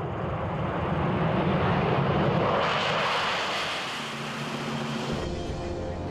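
The SR-71 Blackbird's jet engines roar with afterburners lit while the aircraft strains against restraining cables. The loud, steady, broadband roar holds throughout, swelling slightly and then easing, with no voices.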